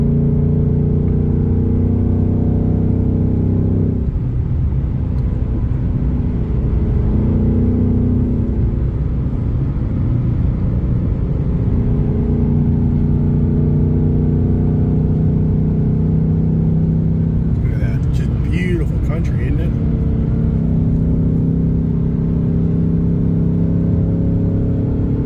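A car drives along a road with a steady, loud engine rumble and tyre roar, rising and falling slightly as it moves, with a brief brighter whirring swell near the end; no voices.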